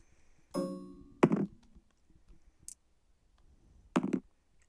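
Dice rolled for a World War II naval bombardment in a tabletop board game, giving three short clattering thunks and clicks on the table, spaced apart with quiet between them.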